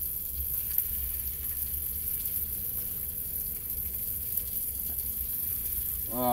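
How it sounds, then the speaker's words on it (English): Food frying in a pan, steady soft sizzling throughout with faint clinks and a brief watery sound near the end, no talk. "I don't know about frying it for 5 minutes."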